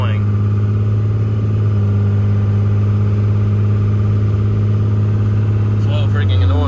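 A pickup truck pulling a 2022 Load Trail gooseneck trailer takes off with its wheels spinning, its engine a loud, steady, close drone that rises near the end.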